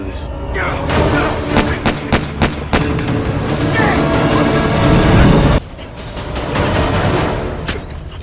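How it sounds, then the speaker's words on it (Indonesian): Gunfire rattles through a World War II film battle between soldiers, dense bursts of shots and booms layered over a rumbling background, sharp repeated cracks through the first half, then a quieter stretch with scattered shots. "terjadilah baku tembak di antara mereka"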